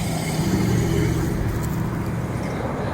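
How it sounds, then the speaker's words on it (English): A truck drives past on a quiet neighborhood road, a steady low rumble that is loudest early and fades as it moves away, with no talking over it. "Here comes another truck."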